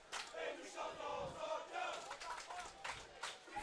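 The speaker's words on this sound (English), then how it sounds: "that is giving something for the Montreal supporter section to cheer about" Montreal supporters behind the bench chant and cheer at a soccer match, a loud sustained crowd roar with surging voices heard from a distance.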